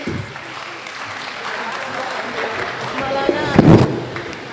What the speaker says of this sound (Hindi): मैं आप लोगों के लिए अगर तालियां बजा सकती माइक पे तो तालियां बजाती, तो आप लोग बजा दें अपने लिए